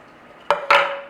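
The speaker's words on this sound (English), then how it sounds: "Throw our onions in, like so." Onions dropped into a pan of boiling butter, giving two sharp sizzling bursts about a fifth of a second apart over a steady background hiss, close and fairly loud.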